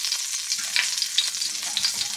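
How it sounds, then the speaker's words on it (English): Bacon, egg and cheese sandwich cooking in a hot pan, with a steady, close sizzle and crackle that runs the whole time and small spitting pops throughout; no talking. "that sizzling not because I accidentally just got water in there"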